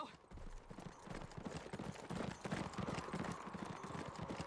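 Rhythmic hoofbeats of a galloping horse in the video game Darkwatch, steady clip-clop filling the whole stretch at moderate loudness, with faint voice-like sounds in the mix.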